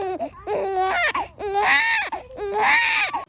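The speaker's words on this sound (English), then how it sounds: "When they start to cry, they make that neh and then continue to cry." An infant cries in loud, repeated wails, each burst starting with a short nasal neh before rising into a full sobbing cry, close up with no other sound.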